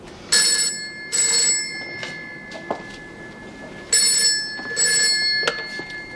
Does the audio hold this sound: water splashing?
no